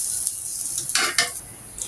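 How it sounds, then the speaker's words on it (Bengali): Semolina with two white cardamom pods toasting in a pan, stirred with a utensil that gives short scraping strokes over a soft, close sizzle. "তারপরে সুন্দর করে এটা ব্রাউন কালারের মতো করে ভেজে নেব।"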